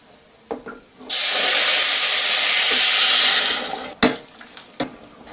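Boiling water is poured straight onto sautéed rice in a pot, giving a loud, steady hissing sizzle that lasts a few seconds, with a few clinks and knocks before and after.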